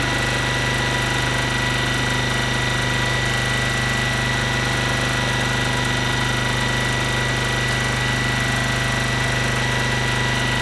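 Mini Beast sewing machine running flat out through already-joined fabric, a loud, steady, unbroken motor drone that holds for the whole stretch with no pauses and no talk.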